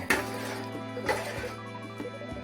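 Quinoa milk payasam being stirred in a pot, with three soft metallic clinks of a spoon against the pot spaced about a second apart over a low steady hum.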